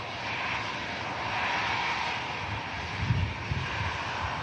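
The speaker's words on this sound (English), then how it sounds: "the Finnair E190 long range is also on the taxi out just behind this Qatar" A Finnair Embraer E190 jet taxis out at Manchester Airport, producing a steady, moderately loud engine hum and hiss at a middle distance, with a few faint low thumps near the end and no voices.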